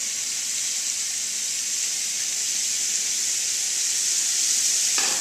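Lamb neck pieces browning lightly in a cooking pot give a steady, close hiss of sizzling fat that holds evenly throughout with no talk.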